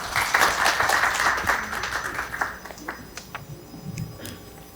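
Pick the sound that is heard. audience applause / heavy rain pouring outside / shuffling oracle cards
audience applause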